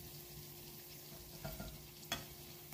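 Battered banana pieces frying in hot oil give a quiet, steady sizzle with a few brief louder crackles, heard alone without talk.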